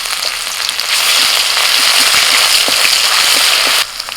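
Garlic paste frying in hot oil alongside dried red chillies, bay leaves and whole cumin for a rural-style mutton curry, giving a loud, steady crackling sizzle that swells after a moment and cuts off abruptly near the end.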